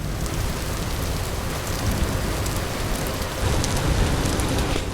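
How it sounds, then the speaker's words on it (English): Steady rain pours in a video game, a dense continuous hiss of drops hitting surfaces that fills the whole stretch, with no talking over it. "We'll come back when it isn't raining."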